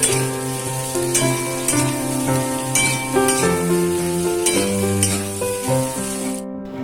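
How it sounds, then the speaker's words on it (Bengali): Whole and lightly smashed potatoes sizzle steadily in a frying pan while being stirred, with soft scraping strokes over a musical background and no talk. "এবার এই গোটা গোটা আলু এবং আলতো করে স্ম্যাশড করে নেয় আলু দুটোকে ভালো করে নেড়ে একটু মিক্সড করে নেব।"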